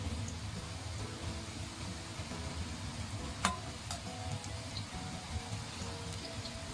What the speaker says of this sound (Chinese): 锅中的油继续加热，当油温达到6、7成热的时候，下入蘑菇进行第2次复炸